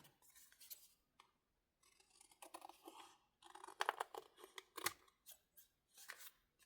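Scissors snipping through material in a run of crisp, close cuts, with irregular short bursts and brief pauses between strokes, no talking.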